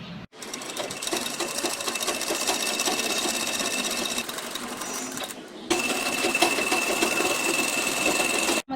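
A sewing machine stitches blouse fabric in two long, continuous runs, a loud, close, rapid mechanical whir with a brief pause between them.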